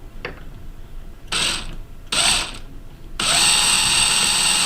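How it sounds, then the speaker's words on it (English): A power drill whirs in short stop-start bursts, then a longer steady run, driving fasteners to mount a RACT biometric safe onto a wall rail; loud, close and mechanical, with no voices. "Gonna grab our drill"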